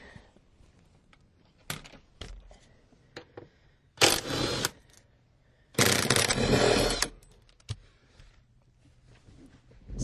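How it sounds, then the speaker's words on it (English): A socket wrench ratchets out the seat bolts of a Honda Prelude project car: scattered short clicks, then two longer, louder bursts of rapid ratcheting around the middle, close up with quiet between. "we're going to go ahead and get those out with our socket"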